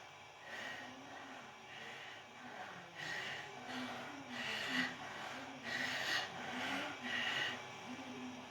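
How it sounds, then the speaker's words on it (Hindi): Heavy rhythmic breathing during a morning yoga flow exercise, repeated forceful exhales and inhales close to the microphone, each breath lasting about a second in a steady cycle. "मेरी सांसों की आवाज आप तक आ रही होगी"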